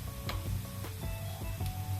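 Onions frying in a pan for drumstick curry make a steady close sizzle with small ticking pops and a low hum underneath.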